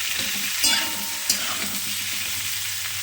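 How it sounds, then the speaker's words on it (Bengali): Fried cauliflower gets mixed into a frying pan for cauliflower and potato with poppy seed, a steady loud sizzle with a couple of brief spatula scrapes. "এবার ভেজে রাখা ফুলকপিগুলো এর মধ্যে দিয়ে দেব। এবার একসঙ্গে ভালো করে সব মিশিয়ে নেব।"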